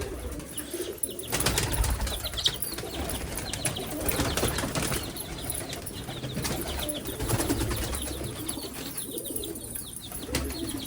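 Teddy pigeons in a loft coo repeatedly amid a busy, noisy background of wing flutters and scuffling, with the low, rolling calls sustained across the whole stretch at a moderate, nearby level.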